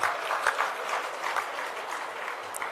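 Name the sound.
audience clapping at political speech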